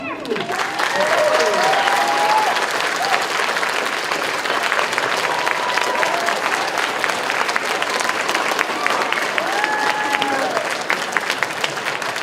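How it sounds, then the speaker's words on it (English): A convention panel audience at BronyCon 2014 claps for a cosplayer in a long, steady round of applause, with a faint whistle or cheer rising over it early on and scattered voices underneath. "this cosplay needs a round of applause"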